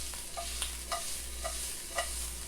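Garlic and peppers fry in a wok for a home pad Thai, giving a steady hiss of sizzling oil broken by a few soft scrapes and stirs of a utensil at a regular pace.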